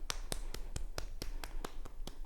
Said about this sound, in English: hitting the back of the hands with the back of the palm